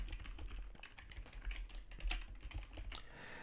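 Typing on a computer keyboard while entering an effect name in Premiere, a steady run of quick, close, light key clicks with small pauses between bursts.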